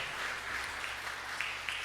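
A church congregation claps faintly and briefly, a soft wash of applause at low volume.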